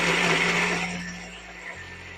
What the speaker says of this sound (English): we're gonna put it in a blender and blend everything together.